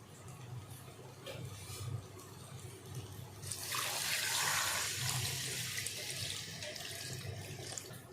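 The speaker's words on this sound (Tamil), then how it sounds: "இப்போ நாம் இதில் தண்ணி சேர்த்துடலாம்" Water is poured into a pressure cooker of country chicken curry, a sudden splashing rush that swells for a couple of seconds, then eases into quieter kitchen sounds.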